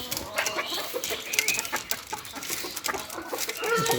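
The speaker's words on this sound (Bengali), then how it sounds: "গ্রামের দেশাল মুরগি" Free-ranging native village chickens at a rural farm cluck and chatter in short, overlapping calls close by, with a busy, continuous flock sound and no speech.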